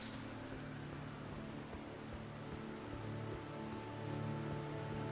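Rainfall in the Elden Ring game world forms a faint, even hiss of steady drops with a low hum beneath, holding unchanged across the stretch.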